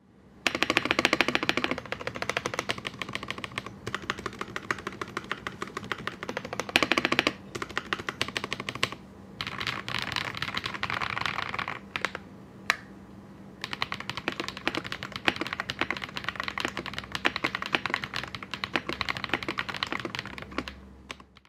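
Rapid, continuous clacking of keys on a Noir N1/X mechanical keyboard, close and crisp, with brief pauses between bursts of typing.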